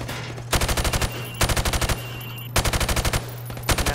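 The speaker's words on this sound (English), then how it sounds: "Now, shoot at the targets while firing from the hip." Rapid automatic rifle fire in a Call of Duty: Modern Warfare Remastered target range, four loud close bursts of about half a second each separated by short pauses, with a steady low hum underneath.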